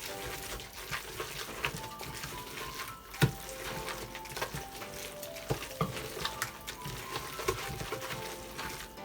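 A spoon stirs carrot cake batter in a bowl, making soft, wet, continuous scraping and sloshing, close but quiet, with a few louder knocks against the bowl and no one talking.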